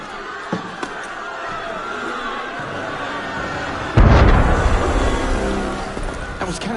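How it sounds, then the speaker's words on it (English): Cannon fire in Assassin's Creed Unity, a single heavy boom partway through that rolls and decays over several seconds, following quieter ambient noise with a couple of faint knocks. "That was cannon fire"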